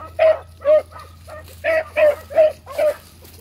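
Several dogs bark in a steady run of seven sharp, evenly spaced yips and bow-wows, close and fairly loud, with a low steady hum beneath.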